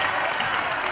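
Basketball crowd at a college game applauding and cheering for their team, a dense, steady wash of clapping and voices filling the arena.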